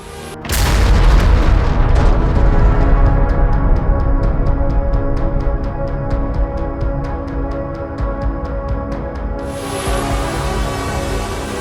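A loud blast erupts, followed by a long, heavy rumbling roar with rapid crackling pops, like munitions cooking off in a continuing fire.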